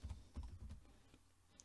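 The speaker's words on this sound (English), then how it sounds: "Told you my typing is terrible when I'm multitasking." A burst of quick, close clicks from typing on a computer keyboard, with irregular keystrokes that fade toward the end.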